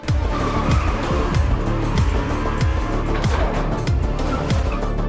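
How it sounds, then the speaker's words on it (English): A car races off with its tires squealing, a loud, continuous engine roar under repeated sweeping screeches and skidding, heard up close with no talk. "Hastily, he starts the car and speeds away."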